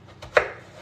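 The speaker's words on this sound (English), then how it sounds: "I'm now just cutting my carrot, which I will saute" A single crisp knife stroke through a carrot on a cutting board, close and distinct, with a faint lighter tap just before it and quiet room tone around.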